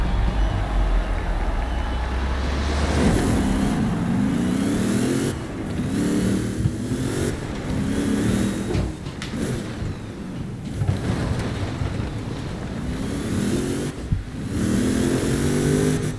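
A racing car engine in the K74 Rivals video game revs hard and steadily throughout, rising and dropping in pitch through repeated gear changes, loud and continuous.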